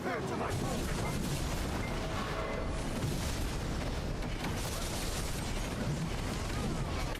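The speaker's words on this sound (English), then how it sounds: "Now he's going to do bombing." A game bombing run rendered as a dense, continuous roar of explosions and booms, loud and unbroken throughout with no clear gaps.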